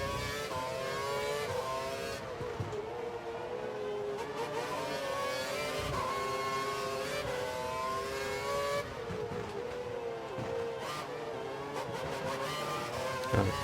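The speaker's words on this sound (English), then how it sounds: "He's running full revs, maximum power" A Formula One car's engine screams at full revs in the F1 2012 racing game, a steady, loud, high-pitched multi-harmonic wail that holds throughout with slight pitch shifts as it changes gear.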